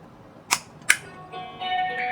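Two sharp clicks of a wireless doorbell button are followed by the electronic chime starting up, a sustained bright tone that continues to the end.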